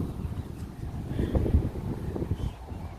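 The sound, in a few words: wind blowing into microphone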